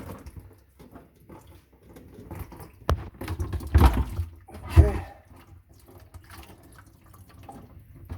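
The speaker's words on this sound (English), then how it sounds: "Just let it all drop down in the bucket." Water drains out of a disconnected sink pipe into a bucket, giving intermittent splashes and drips with two heavier gushes midway, close and fairly quiet with no talking.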